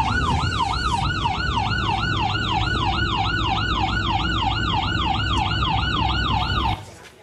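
A loud ambulance siren wails in steady, rapid up-and-down sweeps over low street-traffic rumble, then cuts off abruptly just before the end.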